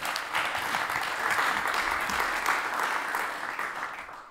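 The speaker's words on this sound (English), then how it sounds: "Give her a warm round of applause" Warm studio applause greets an invited female guest, a steady mid-sized round of clapping that swells slightly in the middle and holds throughout with no speech.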